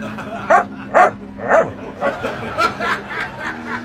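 A dog gives a rapid series of short, yipping barks mixed with whimpers, close and fairly loud, tapering into softer whining toward the end.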